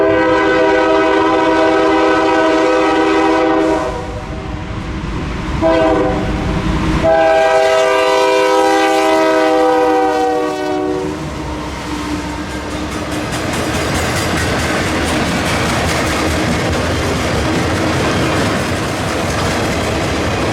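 Freight train led by a pair of C40-8 locomotives, bound for Forbes, passing close by with loud sustained multi-tone horn blasts, then a heavy rumble and rolling clatter of wagons continuing steadily without speech.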